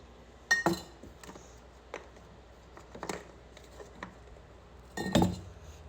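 Metal litter such as cans, lighters, silverware and bottle caps clinks and rattles inside a large flower vase, with three separate bursts of clinking against faint background quiet.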